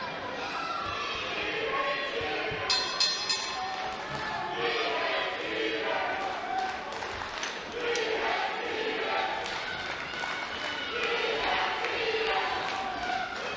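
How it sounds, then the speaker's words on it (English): A large arena crowd in a Killer Instinct fighting game match roars and chants continuously, dense and loud throughout, with scattered shouts rising out of the din. "The crowd's really getting behind the chant calling 8-Bit a cheater here."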